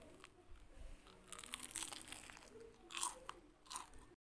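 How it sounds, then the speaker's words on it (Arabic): Crisp crunching as freshly fried churros served with Nutella are bitten and chewed, several close, distinct bites crackling over about four seconds with no talking. "غادي نسمعكم القرمشه ديال التورس كي تيجي تيجي رطب ولكن مقرمش"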